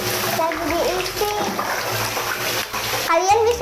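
Water splashes steadily into a hotel bathtub from the tap, a continuous rushing pour heard close by while a voice and other talking carry on over it.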